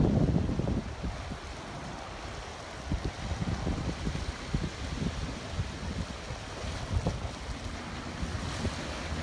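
Ocean waves in Cuba wash and churn steadily, with gusting wind buffeting the microphone and no voices.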